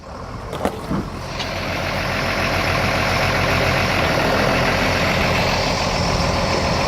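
A car engine starts with a few clicks, then runs at a steady, loud, close drone that builds and holds without a break. The car is an old one with a damaged window and door.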